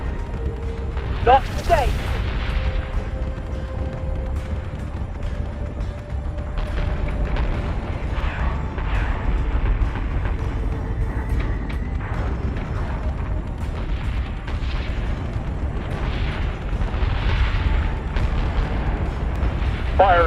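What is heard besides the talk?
warship guns firing, from video game Battlestar Galactica Deadlock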